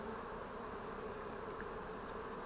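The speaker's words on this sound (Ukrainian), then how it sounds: "Бджоли обльотуються." A dense, continuous buzz of many bees flying close by around a log hive at an apiary in the afternoon, steady and unbroken throughout.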